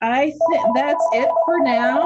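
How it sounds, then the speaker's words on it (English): A ringing phone sounds as a steady, unbroken tone beneath close, continuous conversation that runs the whole length. "Sorry about my ringing phone."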